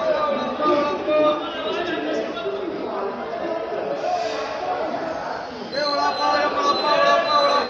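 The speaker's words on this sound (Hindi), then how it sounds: "हमारी ट्रेन आ चुकी है पुणे जंक्शन पे" A passenger express train pulls into Pune Junction, platform 3, in the morning, its wheels and carriages rumbling and squealing faintly beneath ongoing talk.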